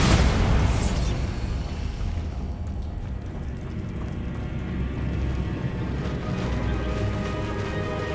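A Bombarda blasting spell detonates in Hogwarts Legacy, a loud, close explosion with a strong opening burst that decays into a long rumbling tail of debris and low roar.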